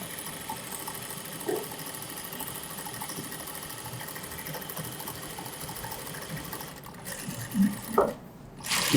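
A sewing machine stitching fabric during a tailoring class, a steady mechanical whirring run that continues for several seconds, then stops and starts in short bursts near the end, with no talk over it.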